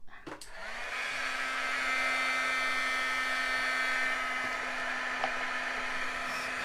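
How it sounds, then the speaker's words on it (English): An embossing heat gun blows on paint for a faux kitchen backsplash, a steady close whirring hiss with a constant tone that starts with a click and runs unbroken. "now let's get my embossing gun out"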